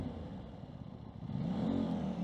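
Aprilia RS660 sport motorcycle engine revving, a steady mid-level drone that swells louder toward the end, heard alone with no voices.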